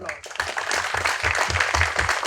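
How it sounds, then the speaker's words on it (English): Audience applause in an auditorium welcoming jury members at a startup idea pitch event, clapping that starts abruptly after a brief pause and continues in a dense, fairly close patter, with some voices mixed underneath. "let us welcome our jury members with a large round of applause"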